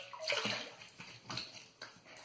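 Lukewarm water pours steadily into a sink basin for wet shaving with a rushing, splashing sound, swelling and easing in a few bursts, close by with no talking.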